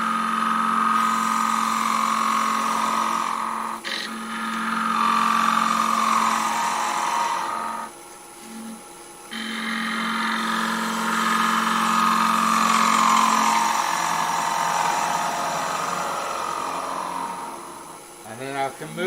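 A wood lathe turns a bowl as a 60-degree bowl gouge rubs its bevel along the side wall, producing a close, steady whirring cut with shifting pitch, interrupted by a couple of brief breaks.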